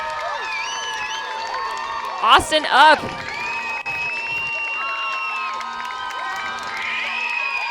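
Crowd cheering at an Indy Red vs. Austin Torch football game in Austin, a broad roar of whoops and shouts that surges near the middle, with an announcer talking over it.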